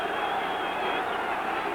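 Steady roar of a 1973 college football stadium crowd of Notre Dame fans cheering on third down, a dense continuous wash of many voices without breaks.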